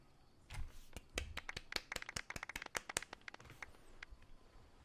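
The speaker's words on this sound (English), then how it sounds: "Let's give our champion Kaveh one last big round of applause" Applause in the video game Genshin Impact at the close of an award ceremony, a short burst of crisp, fairly quiet clapping that starts abruptly, stays dense for a few seconds and then stops.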